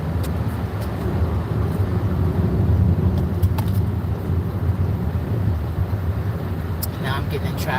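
Steady engine rumble and road roar from a car on an Oakland freeway, heard from inside the cabin with a few faint clicks on top.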